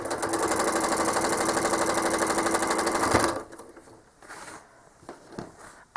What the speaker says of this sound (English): So I'm going to stitch the first line.